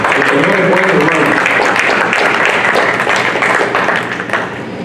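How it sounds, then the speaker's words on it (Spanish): A church congregation claps in praise during a Spanish-language worship service, loud dense applause blended with voices that stays strong before easing slightly near the end. "Denle un aplauso al Señor, hermano."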